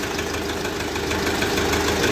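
A YuMZ-6 tractor diesel engine runs steadily after a crankshaft replacement, a close, loud, even idle with a faint rattling vibration underneath, no voices heard.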